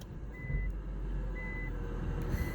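Reversing beeps from a Nissan Stagea WGC34 estate car in reverse: a faint, high, steady tone repeats in long evenly spaced pulses over low engine rumble and background noise.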